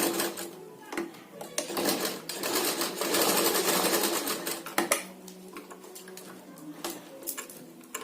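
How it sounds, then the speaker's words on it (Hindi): A sewing machine running a double line of stitches on a tassel, with rapid mechanical clatter in bursts and pauses, close and fairly loud. "यहाँ से डबल सिलाई लगाएंगे।"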